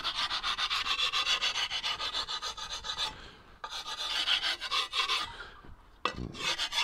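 The oiled, rusty edge of a garden grass-edging tool being sharpened with a file, giving close rhythmic rasping strokes that pause briefly twice before resuming.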